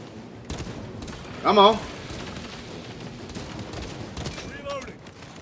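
Gunfire in the Warhammer 40,000: Space Marine 2 video game, with scattered shots and bursts under ongoing noise and one louder burst early on. Someone speaks briefly over the shooting.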